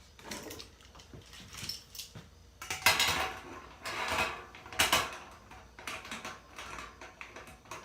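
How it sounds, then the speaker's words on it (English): A metal lid goes onto a pot still holding pumpkin whiskey mash, giving a series of clanks, scrapes and rattles at close range, loudest in a few sharp bursts in the middle, with no talking. "now we're going to put the first lid on"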